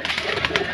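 Lakha pigeon cooing close by in a loft, a short soft burst of throaty calls with steady low background hum.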